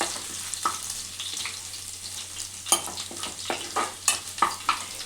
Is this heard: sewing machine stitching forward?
no